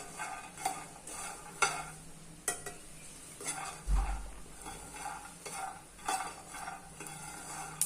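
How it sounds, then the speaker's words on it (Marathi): Peanuts are stirred while dry-roasting in a pan for jaggery poha laddoos, with repeated soft scraping strokes and faint crackle at a quiet level, plus one low thump partway through. "शेंगदाणे पण असेच मध्ये भाजून घेऊयात"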